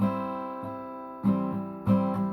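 Acoustic guitar chords strummed a few times in an uneven rhythm, each ringing out clearly before the next strum, close and fairly loud.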